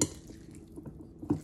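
Utensils clink and scrape softly against a bowl while leftover curry chicken salad is mixed, with a few faint knocks at irregular intervals and no talking.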